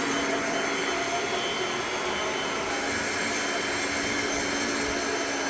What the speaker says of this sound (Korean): 요즘은 가정용 청소기에 침구 브러쉬라는 툴이 같이 나오는데 그걸 사용해서 이제 청소를 주에 한 번씩은 해주시면 좋고요